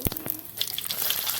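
Quick crackle and sizzle as cumin seeds hit hot oil for tempering patra, a short burst of bright popping sounds close by.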